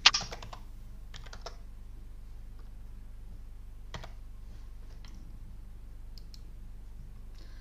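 Light clicking of computer keyboard keys as a folder name is typed, with short bursts of taps, pauses between them and scattered single keystrokes, close and fairly quiet over a low steady hum.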